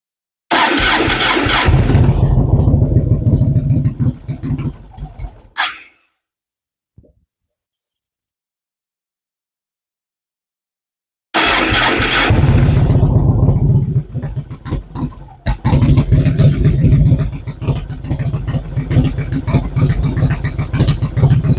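A motorcycle fitted with a K&N air filter cranks and starts, runs briefly, cuts out into silence, then starts again and keeps running loudly up close as it warms up, with a steady engine rumble.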